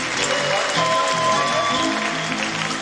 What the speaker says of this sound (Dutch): Applaus voor Ricky.